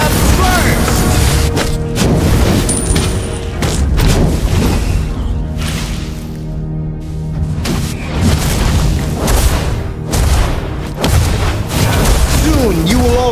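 The Lava Burst skill of the hero Valir, in Draconic Flame form, erupts in Mobile Legends gameplay. Loud, deep booming explosions come repeatedly and close, layered over busy game effects and background music.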